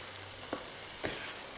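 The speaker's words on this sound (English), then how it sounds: "All right, stir them through." Tinned baked beans in tomato sauce are stirred in a pan over a low, steady sizzle, with two soft scraping strokes of the spoon close by.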